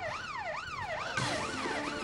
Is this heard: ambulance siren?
yes